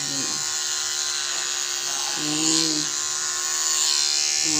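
A Surker electric shaver runs steadily up close with a constant buzzing motor hum, its pitch shifting slightly as it moves through hair.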